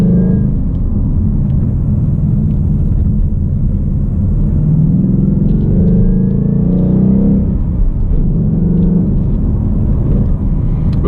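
A loud 2018 Ford Mustang GT V8 engine with a manual gearbox rumbles steadily throughout, a deep throaty drone that swells and revs slightly midway, heard close up from inside the car.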